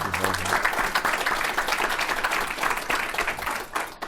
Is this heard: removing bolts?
no